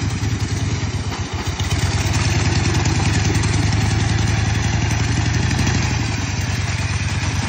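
A game vehicle's engine runs steadily and loud, with constant metallic clatter from an aftermarket pulley set too close to the frame and rubbing the clutch rod.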